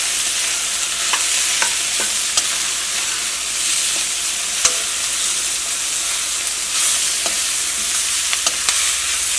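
Sliced vegetables for a Kerala mezhukkupuratti fry with ground masala in an open pan, giving a steady, close sizzle broken by scattered scraping clicks of stirring.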